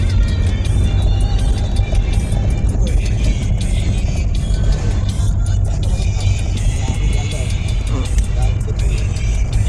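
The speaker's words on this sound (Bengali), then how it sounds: "নর্থ বেঙ্গলের বাস, ছোট বাস, প্রায় গোটা 5 বাস পাস হলো আমাদের বাস থেকে" Small North Bengal buses passing one after another on a hill road near Kurseong, heard from inside another bus: a steady, loud low engine rumble with road roar and passing swells throughout, and faint voices underneath.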